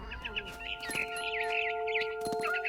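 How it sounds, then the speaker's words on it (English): Barn swallow chirping in the video game What Remains of Edith Finch: quick, fairly faint bird calls repeat in a rapid rhythm over soft sustained musical tones. "It was a barn swallow going back to her nest."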